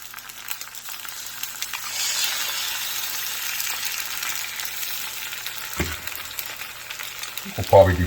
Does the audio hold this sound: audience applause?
no